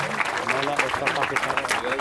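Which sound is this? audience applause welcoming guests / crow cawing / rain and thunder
audience applause welcoming guests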